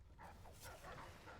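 A dog in the video game Dishonored whimpers and gives soft yelping barks, faint and brief.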